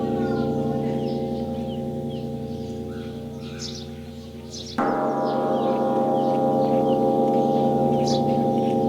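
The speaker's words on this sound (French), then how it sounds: "la cloche la plus grande du monde est ici à Mingun, et elle sonne encore" The great bell of Mingun in Myanmar rings with a long sustained metallic hum, then a fresh strike partway through renews the loud, rich tone, with faint birdsong above it.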